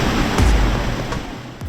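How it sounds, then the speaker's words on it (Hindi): Gulpur waterfall in Azad Kashmir, water plunging under high pressure into a deep pool, makes a loud, steady, close roar of rushing water with no voices. "यहाँ से पानी बहुत प्रेशर के साथ जो है वो नीचे गिर रहा है"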